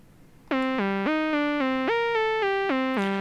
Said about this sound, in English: I created a sequence in the SH that sounds like this.